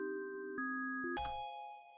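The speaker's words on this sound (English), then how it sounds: "I'm also gonna EQ these bells right here, just because those higher bells have some resonation in them" High, resonant bell tones from a dark ambient beat ring out as sustained, clean notes that change pitch a few times, ending on a brighter, higher bell over a short low thump.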